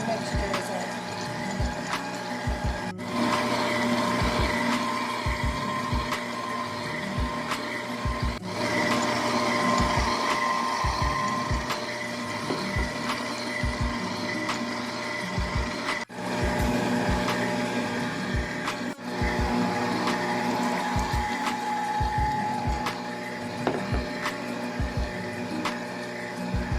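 A stand or hand electric mixer whirs steadily through pound cake batter as milk is added, a continuous close motor drone with brief pauses as the mixing stops and restarts.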